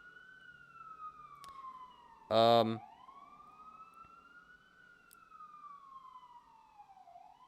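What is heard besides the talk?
ambulance siren passing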